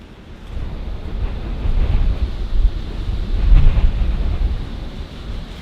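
Strong wind roars and buffets the microphone outdoors in the windy city of Palmer, a continuous low rumble that swells and eases with no voices.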